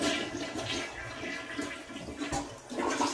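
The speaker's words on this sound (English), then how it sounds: "Got to flush." A household toilet flushes with a steady rushing wash of water throughout, close and fairly even, swelling slightly again at the end.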